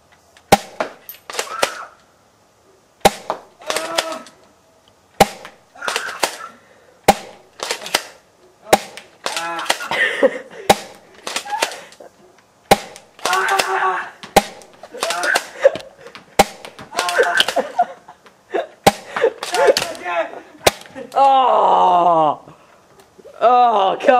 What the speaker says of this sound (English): we'd like to shoot Spatula with a 400 FPS shotgun